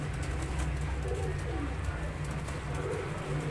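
Pigeons kept for sale in Faisalabad coo softly amid a steady, noisy background hum, their low rolling calls repeating through the clip.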